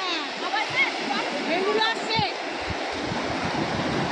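Sea waves wash and rush steadily at Mandarmani beach, a broad close surf roar with wind, while voices, a child's excited cries among them, talk over it.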